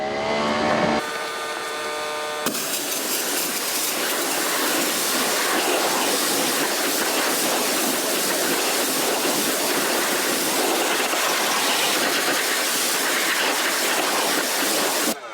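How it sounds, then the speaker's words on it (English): Water spray rinsing a car wheel after cleaning with iron remover: a tonal mechanical sound cuts off, then a loud, steady broadband hiss of spraying water carries on close and unbroken for several seconds. "And now we're just going to rinse off the wheel."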